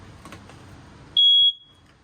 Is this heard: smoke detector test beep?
yes